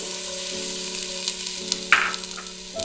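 Chopped vegetables for a vegetable pulao fry in a pan with a loud, steady sizzle close by, with a brief crackling burst and light stirring taps partway through and no voices.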